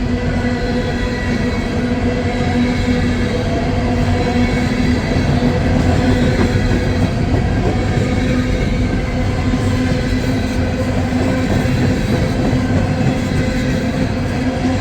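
A CSX coal train rolls steadily along the rails on Parr's Ridge, a loud continuous rumble with faint wheel clatter and a steady tone, heard close for the full stretch.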